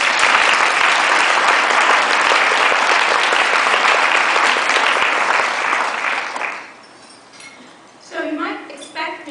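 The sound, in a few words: applause for the event team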